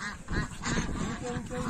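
Domestic ducks quack repeatedly and close by while waiting to be fed, a busy overlapping chorus of calls with no talking.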